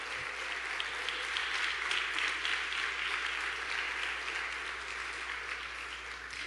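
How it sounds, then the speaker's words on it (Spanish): A church congregation applauding together, sustained, dense clapping that holds steady for several seconds with no speech over it. "Le puedes dar otra ofrenda de palmas"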